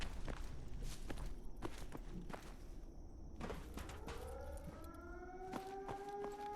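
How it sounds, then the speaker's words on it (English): A wailing siren in the game Fallout 4 rises in pitch and holds a long sustained tone over the second half, mixed with repeated footstep thuds and ambient game noise, with no talking. "That siren just keeps going off"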